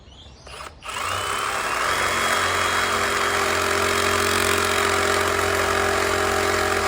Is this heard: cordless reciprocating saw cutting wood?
yes